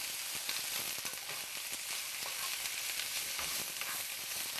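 Onions and garlic sizzle and fry steadily in an oven-proof pan, a dense continuous hiss with small crackles throughout, close and even, with no talking.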